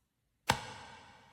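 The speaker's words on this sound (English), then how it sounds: "Most hip-hop impacts sound like this." A typical hip-hop impact effect: one sharp, short hit after a moment of silence, decaying quickly into a faint ringing tail, quiet and alone.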